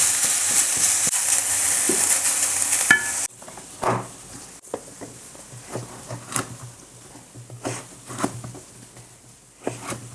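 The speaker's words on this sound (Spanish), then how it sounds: "No olvidamos de remover la panceta." Pancetta frying in a pan: a loud continuous sizzle at first, then quieter sizzling broken by repeated scraping strokes of a utensil stirring the pieces.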